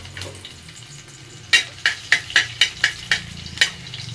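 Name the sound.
garlic sautéing in a pan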